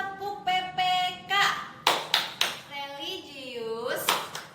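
A group claps a rhythmic chant-clap routine, tepuk PPK, during a morning gathering, sharp claps in short bursts mixed with a voice chanting over them.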